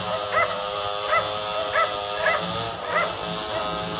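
Dogs bark in a steady series of about six evenly spaced, fairly loud barks over a constant background hum.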